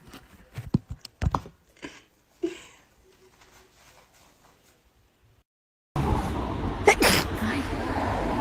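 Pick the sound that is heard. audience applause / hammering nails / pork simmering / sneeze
sneeze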